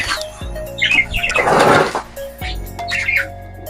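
A hen moving nearby in a Filipino backyard bird setting, with bursts of loud close wing flapping and scuffling, plus a few soft chirps between flurries.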